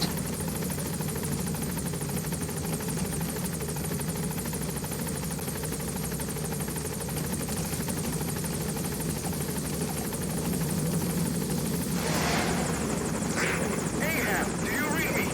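Support helicopter in Metal Gear Solid V arriving at a landing zone, its steady rotor thrum and engine drone loud and continuous throughout, with a brief burst of louder noise near the end.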